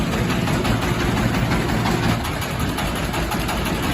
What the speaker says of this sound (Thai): เครื่องยนต์นะครับผมขนาด